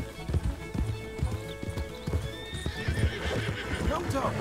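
A Hungarian Half-bred horse in Red Dead Redemption 2 gallops with steady, rhythmic hoofbeats. It gives a whinnying neigh as the run continues, and the sound is close and fairly loud throughout.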